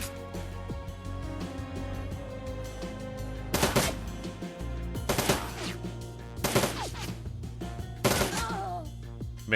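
Automated turrets firing on enemies in the video game Shadowrun: Dragonfall, with several loud bursts of rapid gunfire cracking over a steady low musical drone, each volley separated by short pauses.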